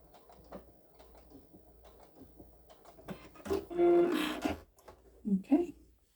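A sewing machine back stitching a fabric bowl cozy, short mechanical whirring runs that build into a louder sustained burst near the end, with a person talking quietly alongside.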